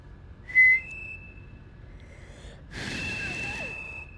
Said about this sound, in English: Is that a whistle?